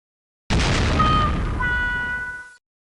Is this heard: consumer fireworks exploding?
yes